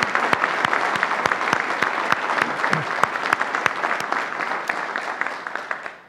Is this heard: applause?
yes